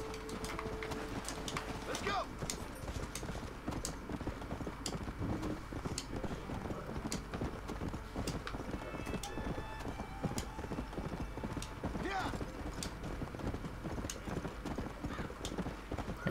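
Horse hooves clip-clopping at a gallop in the video game Red Dead Redemption, a steady rapid rhythm with occasional whinnies, moderately faint under game ambience.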